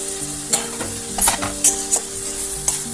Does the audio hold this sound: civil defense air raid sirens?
no